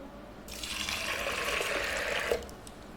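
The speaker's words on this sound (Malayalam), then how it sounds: "ഇനി നമുക്കിതിലേക്ക് വെള്ളം ഒഴിച്ചു കൊടുക്കാം." Water pours into a pressure cooker holding lentils and garlic for Kerala sambar, a steady close splashing stream running for about two seconds before it stops.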